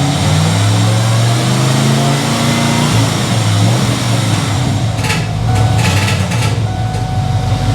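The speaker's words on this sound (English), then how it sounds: "put it in first, and it doesn't want to engage until you really rev it up." A car engine with a Ford AOD automatic transmission revs loudly up and down in first gear while the transmission is slow to engage, with some clunks and knocks near the end, and no talking.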